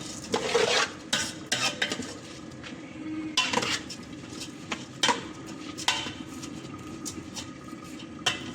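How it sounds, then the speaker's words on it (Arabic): Rice with vermicelli is stirred in a pot with a spoon, giving repeated scraping strokes and light clinks against the metal at a close, moderate level, alone without talk. "تاني نقلب فيه كده شويه كمان اهو"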